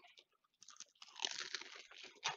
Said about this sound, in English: Crunchy. Mm. You can hear the crunch.